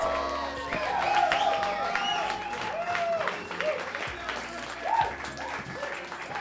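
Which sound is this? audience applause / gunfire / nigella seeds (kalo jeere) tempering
audience applause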